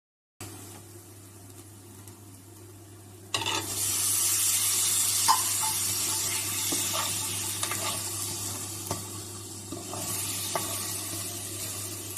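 Eggs tipped into a pan of garlic chili paste start a sudden loud sizzle partway through, which continues as a dense, even frying hiss with occasional spatters and clinks.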